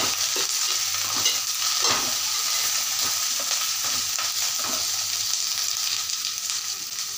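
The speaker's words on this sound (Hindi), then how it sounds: "यहाँ पे हमने सब्जियों को सोटे कर लिया है" Onion and capsicum sautéing in a pan for mushroom Manchurian, an even, close sizzle with frequent soft scraping and tossing strokes of a spoon, no voices.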